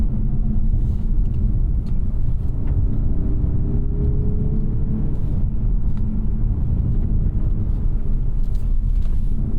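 A 2024 Mazda CX-30 Turbo Premium Plus engine held in second gear, pulling hard with a loud, steady, close-up drone and rising tone under acceleration, alone with no talk.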